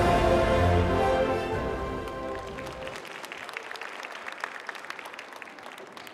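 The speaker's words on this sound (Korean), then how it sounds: "여러분 모두 다 큰 박수로 함께해 주시기 바랍니다." Audience applause follows a taekwondo demonstration at a science and creativity concert stage show, rising as music fades and continuing as a dense, steady clatter of many hands clapping.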